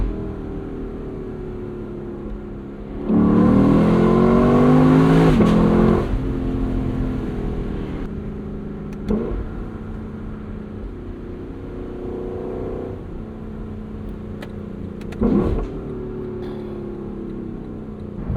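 A 2024 Lexus LC 500 V8 convertible revs hard through its gears, rising in a loud, close burst around three seconds in, then settling into a steady drone with brief throttle blips and shift flares.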